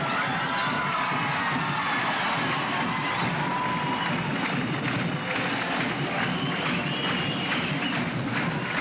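A high school basketball crowd in the Morton Potters versus St. Ignatius game, 1978-79 season, cheers and shouts before tip-off, a dense, continuous roar of voices with scattered whoops filling the gym.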